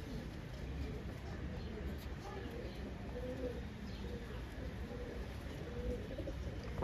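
Gola pigeons, including a restless tagged female, coo softly in a loft in Howrah, Kolkata, with a voice talking over the birds throughout.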